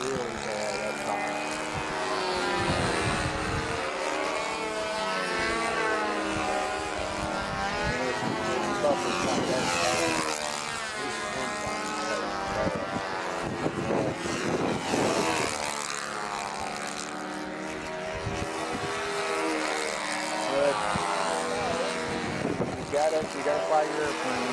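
A Bearcat propeller airplane flying, its engine drone rising and falling with a pulsing, sweeping pitch as it passes, loud and sustained, with people talking over it.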